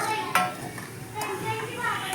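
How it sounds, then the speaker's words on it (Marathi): Semolina roasts in ghee in a pan while a spoon stirs it, giving soft scraping strokes and a gentle sizzle up close, with someone talking over it. "हे छान आपल्याला भाजून घ्यायचं आहे रवा"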